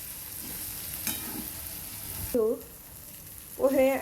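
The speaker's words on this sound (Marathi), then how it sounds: "परतून घेऊ कांदा." Onion with turmeric sautés in a pan for kanda pohe, giving a soft steady sizzle with a few scraping stirs, while someone talks briefly over it.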